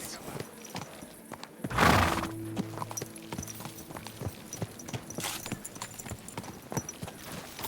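Hollow hoof clip-clops plod along with a brief horse whinny or snort near the start, set against a muffled, noisy background, in the video game Kingdom Come Deliverance II at night.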